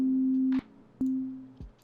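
Notes from a Serum synth basic-shape preset played as a one-shot melody: clean, pure sustained tones that start and cut off sharply, a few notes in slow succession, heard alone.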